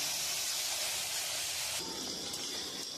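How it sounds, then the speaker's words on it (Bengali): Battered bottle gourd fritters fry in hot oil in a kadai, giving a loud, continuous close hiss and sizzle with no pauses and no voices. "এবার আমি এক এক করে লাল লাল করে ভেজে নেব"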